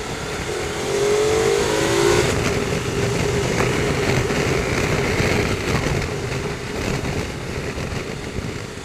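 Cars drive past on a freshly gravelled country road, engines rising and fading as tyres crunch and rumble over loose stones, loud and near throughout with no talk.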